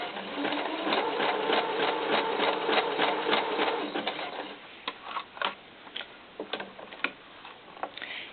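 Sewing machine stitching stretched elastic onto small doll underwear, a steady rapid mechanical whir for about four seconds, then stopping and giving way to scattered light clicks and taps.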